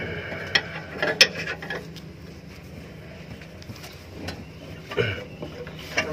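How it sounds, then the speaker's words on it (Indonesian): Tightening of car engine mounting bolts on the gearbox, heard as scattered metallic ratchet clicks and tool knocks, moderately close, with a few sharper taps among quieter mechanical handling. "Bautnya sudah kencang, ini baut, 2 bautnya udah kencang, baut engine mountingnya juga udah kencang."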